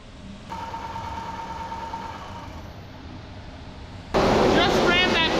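A soybean seed treater line is jogged to prime the treatment, giving a steady mechanical hum with a thin tonal whine, then a sudden much louder, rougher burst of machine noise near the end.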